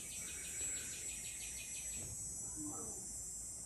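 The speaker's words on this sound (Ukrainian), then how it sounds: "І цикади вже самого ранку діщать." Faint, rapid pulsing insect chirps buzz in a steady rhythm, fading partway through, with a soft outdoor hiss and a distant bird call.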